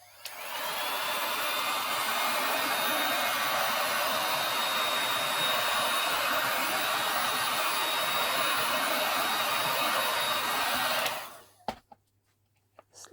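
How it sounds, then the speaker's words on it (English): Heat gun blows steadily up close over craft resin poured on a clock, a loud, even whooshing roar lasting about eleven seconds before it switches off into near silence. "I'm going to use a heat gun on it, just to make sure that it spreads out evenly."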